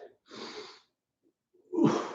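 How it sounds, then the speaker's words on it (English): Two breaths taken during a home upper-body workout, near and loud: a breathy inhale, a short pause, then a stronger, rougher exhale. "Deep breath."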